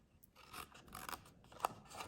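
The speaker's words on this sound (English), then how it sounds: "just snip up to that horizontal score line" Sharp scissors snip through patterned Florals in Bloom paper, cutting up to a score line while making a small paper treat holder; a series of close, quiet, crisp snips and rasps with no talking.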